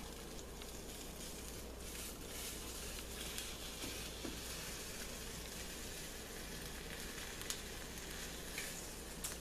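Egg frying in butter in a pan gives a steady, close sizzle with faint crackles running evenly throughout, and no voices are heard.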